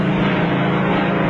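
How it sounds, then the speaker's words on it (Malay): Military helicopter arriving with Malaysian soldiers in a jungle setting, a steady loud droning rotor and engine roar filling the clip without a break, old film soundtrack quality. "Dan helikopter tiba membawa prajurit-prajurit Malaysia."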